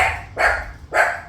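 A dog barks three times in quick succession, sharp and fairly close, with short gaps between each bark.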